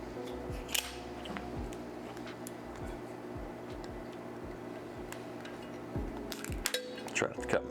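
A blade scrapes and cuts at the seal on a bottle of Elijah Craig Barrel Proof Rye whiskey, making small scratchy clicks and ticks close by, with a few sharper snaps toward the end.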